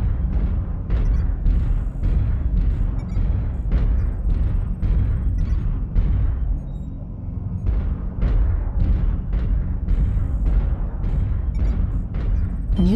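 Video game artillery strike explosions land in a rapid series of heavy booms, loud and close, with brief lulls between bursts and one short gap midway.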